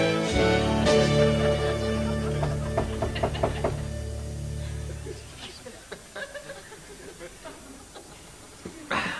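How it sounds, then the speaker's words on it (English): Someone bangs on a door with a series of sharp knocks over a sustained musical backdrop in the animated farm episode; the knocking thins to scattered taps as the music fades. "inform whoever is a-banging at the door"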